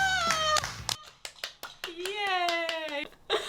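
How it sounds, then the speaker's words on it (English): A few sharp hand claps ring out in a quick irregular series between excited high-pitched voices and a cat's meow, close and fairly crisp in a quiet indoor room. "Oh, I shouldn't have clapped"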